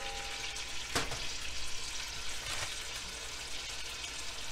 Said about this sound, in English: And then I'll add the rest of the marinade.